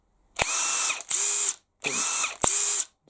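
A Makita cordless impact driver runs unloaded in four short bursts, each a high whining buzz of about half a second with sharp starts and stops, close and loud.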